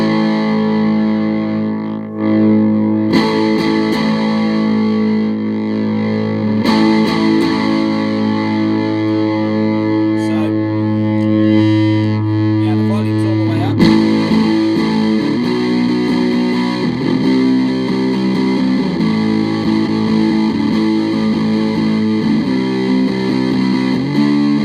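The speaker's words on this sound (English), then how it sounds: "I've wired in another diode into the mix as well, so just to play around with the level of distortion." An electric guitar plays through a retro fuzz pedal with an extra diode wired in, giving a thick, buzzing, saturated distortion on sustained chords and notes, loud and continuous with brief pauses between phrases.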